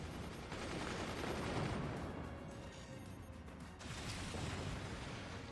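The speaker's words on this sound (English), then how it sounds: "Actually, we have miniguns going on up on top and an upgraded AP sniper." Minigun fire in the strategy game Forts rattles as a dense, continuous roar of rapid shots with crashing impacts, quiet and steady throughout.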